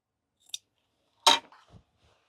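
Scissors trim the fabric corners of a sewn witch hat: one faint tiny snip, then a single sharp close cut followed by a soft rustle, all in a quiet room.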